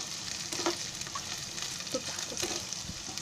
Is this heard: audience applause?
no